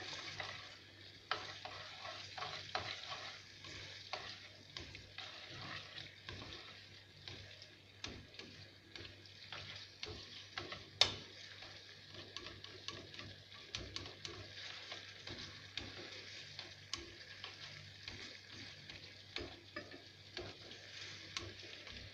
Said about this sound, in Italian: Adesso mescolo ben bene e lascio raffreddare.